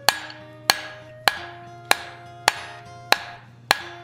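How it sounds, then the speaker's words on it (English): Seven sharp metallic hammer strikes on steel being forged into a taper ring out at a steady, slightly slow rhythm, each followed by a brief bright ringing decay, close and fairly loud. "Do a couple hammer blows and then I rotate it"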